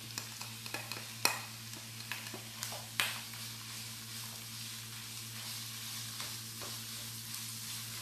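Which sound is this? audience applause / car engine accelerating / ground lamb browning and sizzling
ground lamb browning and sizzling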